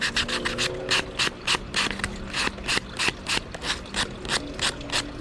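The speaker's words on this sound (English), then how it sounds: "Let's come back with some sandpaper here. Smooth down the edges." Sandpaper rubbed back and forth along the freshly cut edges of a cedar wood wake bait, a steady series of close, rhythmic rasping strokes about twice per second, with no talking.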